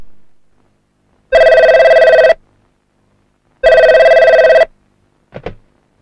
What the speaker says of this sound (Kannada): ಫೋನ್ ನೋಡು.